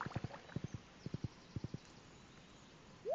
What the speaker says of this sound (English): I love the sound of the horse.